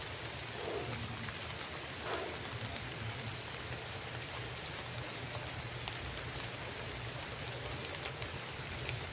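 Steady rain falling on a forest trail during a hike, a dense continuous hiss with faint scattered drip ticks, moderately quiet and unbroken.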